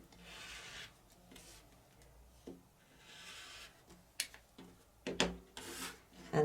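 A rotary cutter or blade runs along a ruler across quilting fabric in soft rubbing strokes, followed by a few close clicks and scrapes of the tools.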